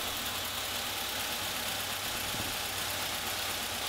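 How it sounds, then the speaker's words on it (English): A car engine fitted with a crank trigger ignition system and Gen4 EFI runs steadily close by, a continuous broadband mechanical drone with no clear rise in pitch, heard alone. "Again, rev the engine back up."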